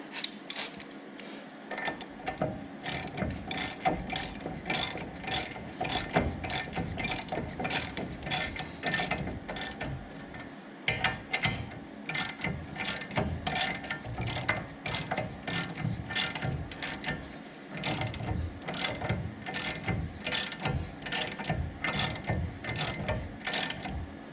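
A ratchet wrench cranks rapidly and steadily to tighten a caliper bracket bolt on a Ram truck hub, its dense metallic clicking running close and loud for the whole stretch with no talk.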